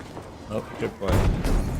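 A tripwire bomb explodes in the Battlefield 5 video game, a sudden loud broadband blast that rumbles on for most of a second amid game noise, with players talking before it.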